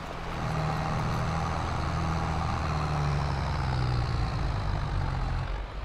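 New Holland 3630 tractor engine in Farming Simulator 22, a steady low droning rumble held at high revs with a constant engine hum and no talking.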